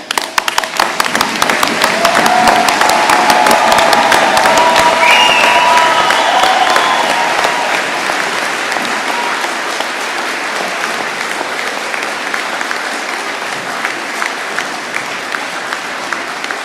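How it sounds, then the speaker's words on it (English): Crowd applauding and cheering for standing graduates at a university commencement ceremony, a loud burst of sustained clapping that swells quickly, then eases slightly and carries on steadily. "Cheer for them."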